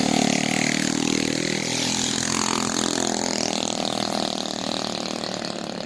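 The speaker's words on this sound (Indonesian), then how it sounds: "Nah ini kita akan lihat ada yang memakai motor." A motorcycle engine runs steadily near a mountain base camp and parking area, a constant mid-pitched drone with slight revving swells, fairly loud and continuous with no talk.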